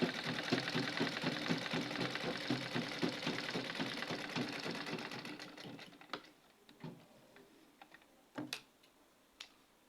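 A sewing machine stitching a fabric rose sleeve runs in a fast, steady mechanical patter for about six seconds, then stops, leaving a few scattered clicks and handling noises at close range.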